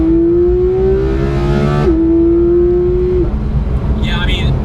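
A Porsche 991 GT3 engine revs with a raw, shrieking tone that climbs steadily, dips sharply, then holds a steady high drone before fading, loud and close inside the car.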